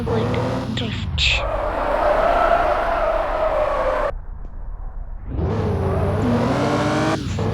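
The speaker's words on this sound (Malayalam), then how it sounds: "നേരെ പോയിട്ട് ഡ്രിഫ്റ്റ്." A car in a driving simulator video game drifts and skids, its engine droning loudly with tire squeal. The noise drops out briefly partway through, then returns at full strength.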